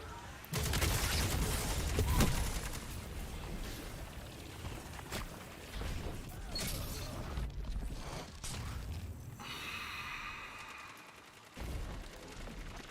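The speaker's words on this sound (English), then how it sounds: "Let me reload while I can." Weapon reload in Destiny 2 amid a firefight: clicking, ratcheting mechanical sounds mixed with bursts of gunfire and scattered impacts, busy and fairly loud throughout, with a brief whirring tone late on.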